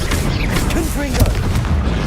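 Booming fire-spell blasts from the Confringo curse in Hogwarts Legacy, loud and close, with a shouted spell-name voice and clashing effects layered over a dense rumbling game soundscape.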